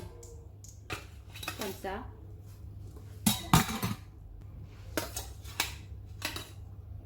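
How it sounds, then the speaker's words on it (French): A spatula clatters against a pan while a Kabyle flatbread for tahboulte el merka is flipped, giving several sharp metallic scrapes and clinks, with someone talking briefly in between. "je vais la retourner avec une spatule"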